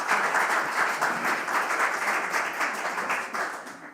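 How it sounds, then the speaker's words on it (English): Audience at a city council meeting breaks into steady clapping after a public speaker finishes, dense and sustained for the full stretch, tapering slightly at the end with no talk over it. "let's not have any clapping after speakers"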